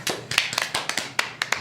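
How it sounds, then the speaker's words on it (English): A small audience at a magic show claps for a volunteer. The clapping is sparse and uneven, with a handful of crisp claps spread over a moment, close and moderately loud. "you can give her a little round of applause"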